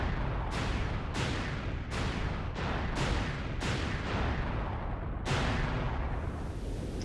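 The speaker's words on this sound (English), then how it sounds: "All those explosions." A rapid series of loud, booming video game explosions in Sonic Adventure 2's Green Forest level, about eight in seven seconds, each with a sharp onset and rumbling tail, over a constant low roar.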